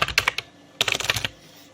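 Two quick bursts of computer keyboard typing, a run of clustered keystrokes, a short pause, then another flurry, close and clear with no voices.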